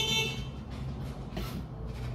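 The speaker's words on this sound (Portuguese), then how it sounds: "era meu namorado buzinando aqui na frente" A car horn honks outside in front of a house, sounding a few short blasts at moderate distance, heard alone without talk.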